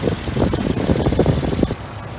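A 2001 Infiniti QX4 4x4 with a 3.5 liter V6 idles nearby, giving a steady, rough mechanical rumble that drops away near the end.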